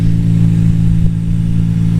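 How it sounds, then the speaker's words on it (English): A 1992 Nissan Skyline GT-R with a loud aftermarket exhaust idles and revs up close, a deep throbbing engine drone that swells briefly and settles back, with no talk. "Aftermarket exhaust is a really noisy one."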